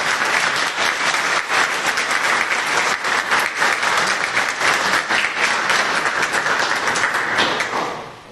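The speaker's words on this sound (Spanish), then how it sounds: "Les pido le ofrezcan un cordial aplauso a nuestra presidenta." Audience applause for the arriving president of a human rights commission at a conference, a dense steady clapping that fills the room for about eight seconds before tapering off at the end.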